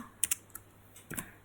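Keys tapped on a computer keyboard, a few separate clicks in two short bursts, close and fairly quiet, with no speech.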